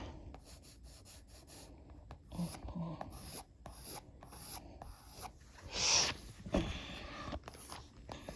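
Charcoal pencil shading on drawing paper, a soft, dry rasping and rubbing of intermittent strokes, fairly faint and close, with brief pauses between passes.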